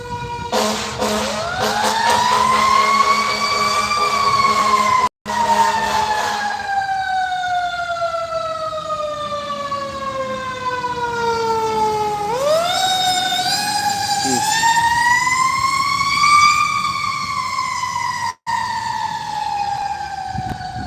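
A fire truck siren wails and sweeps up and down in pitch as the emergency vehicle approaches and passes, loud and sustained for about twenty seconds with engine rumble beneath.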